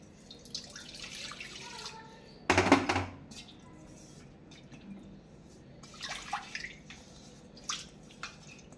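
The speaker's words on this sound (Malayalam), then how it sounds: "ഇത്തിരി തിളപ്പിച്ച വെള്ളം കൂടി ഒഴിച്ചു കൊടുക്കാം" Boiled water splashes briefly into a clay pot of Kerala tuna fish curry, one short loud pour standing out from quiet kitchen background with a few scattered drips and clinks afterward.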